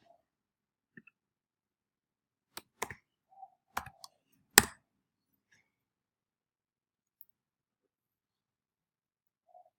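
Sparse, faint computer mouse clicks in a quiet room, a few isolated sharp ticks and small clusters scattered irregularly, with long silent gaps between them.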